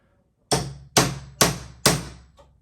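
Four loud, evenly spaced hammer blows strike a metal punch while taking apart a wooden pedestal desk, each sharp impact ringing briefly and decaying, followed by a faint fifth tap.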